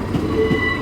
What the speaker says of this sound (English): Here's a train to Edinburgh about to leave.